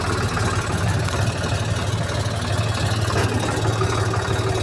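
A rotary tiller's engine idles close by with a steady, loud, even chugging drone and no voices.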